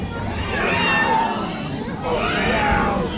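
A crowd at a Renaissance fair comedy and juggling show mimics cats, with many voices yowling and meowing together in a loud, wavering chorus of rising and falling cries, close and continuous.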